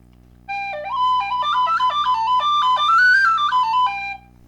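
An Irish tin whistle plays a clear, bright melody of quick ornamented notes with a steady low hum beneath it, loud and close, without talk.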